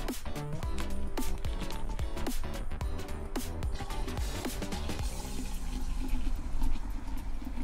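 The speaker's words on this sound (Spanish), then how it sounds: "Refresco de toronja." Grapefruit soda is poured into a pitcher for a paloma cocktail, faint under rhythmic background music at first, then a clearer fizzing pour and bubbling in the last few seconds.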